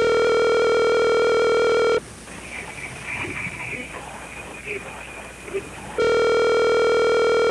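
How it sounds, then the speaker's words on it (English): A telephone's steady ringing tone sounds loudly as a call is placed, first for about two seconds, then cutting to a muffled, noisy gap before the same unbroken tone returns at the end. "Okay, we're calling John."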